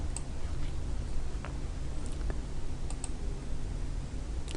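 Soft mouse clicks while working in Autodesk Inventor 2015, placing a deep groove ball bearing from the Content Center: a few light, scattered taps over a steady hiss.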